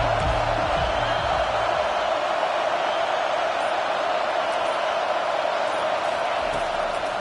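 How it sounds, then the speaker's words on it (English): A football stadium crowd roars steadily for the home defense on third down in a Colorado vs Iowa game, a broad, sustained wall of cheering and noise that stays loud and even throughout. "Decibels rising as the crowd gets behind this defense on 3rd down"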